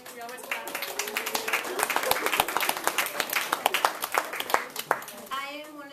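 A small group clapping at a women prisoners' coalition meeting, distinct sharp hand claps scattered over several seconds while people talk and cheer over them.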